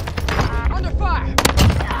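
Gunfire bursts from the Milano 821 submachine gun in Call of Duty Warzone, a rapid fusillade of shots across most of the moment, crackling under voice chat with brief tonal sweeps in between.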